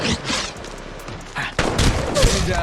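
Bursts of automatic gunfire in Apex Legends Mobile during a close 1v1 fight, loud and rapid, in several clusters with a heavier thumping volley near the end.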